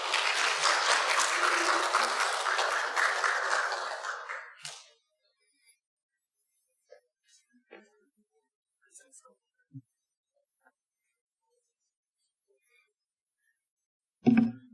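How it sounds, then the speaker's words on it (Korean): A church congregation applauds for nearly five seconds, a dense, fairly loud patter of clapping that stops abruptly, leaving a quiet room with a few scattered soft knocks and a brief thump at the very end. "여러분 박수로 환영해 주시기 바랍니다"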